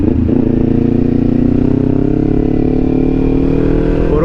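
Several motorcycles on a group ride in Bataan, Philippines, idling and rumbling together close by, a steady loud engine drone throughout with a slight rev near the start.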